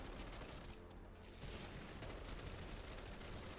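Dense, continuous gunfire fills a round of MW3 Zombies, the video game, with rapid overlapping shots at steady loudness and only a brief thinning near the one-second mark.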